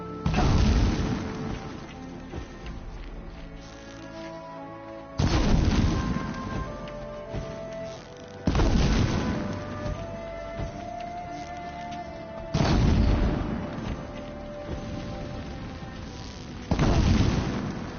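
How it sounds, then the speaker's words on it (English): Video game explosions go off as five heavy booms, spaced about four seconds apart. Each one is loud and sudden and fades into a long rumbling decay, with no talk between them. "There's an explosion."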